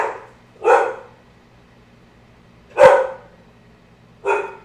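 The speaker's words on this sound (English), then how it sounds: "Got the dog downstairs going crazy." A dog downstairs barks three times, each a single loud, separate bark with long pauses in between, heard from a short distance in a quiet room.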